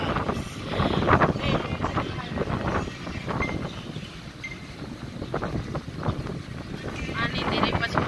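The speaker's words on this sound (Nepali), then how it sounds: "यो पुरै एसीको फुकेर यस्तो हावा चलाइरहेको छ।" An air conditioner blows a steady, fairly loud rush of air, a broad whooshing that swells and dips slightly throughout, with a voice-like murmur mixed in.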